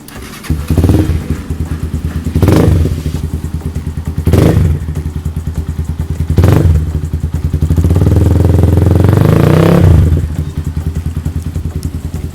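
A 2018 GPX Demon GR150 motorcycle engine revs in several sharp bursts, each throttle blip rising and falling, then a longer sustained rev before dropping back to a rumbling idle.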